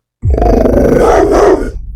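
A dog on a city street in Alexandria snarls in a loud, close, continuous growl that rises into a rough bark-like roar before trailing off, with no talking.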